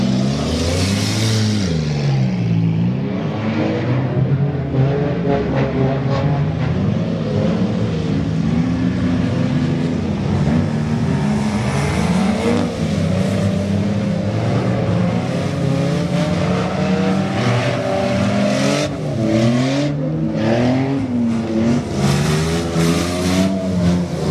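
Race cars lapping at Goods Raceway during an enduro race, a loud continuous drone of several engines revving and shifting pitch as cars pass close by, sustained without a break and no talk.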